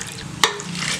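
Water tipped into a cooking pot holding rice and lentils for bisibelebath: two brief, bright splashes close by, about half a second apart, over a quiet kitchen background.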